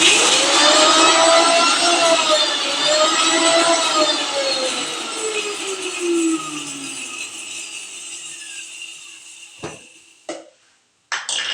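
A mixer grinder crushes chillies with salt for a raw mango chutney, giving a loud, high motor whine that gradually slows and fades, followed by a few sharp clicks and knocks.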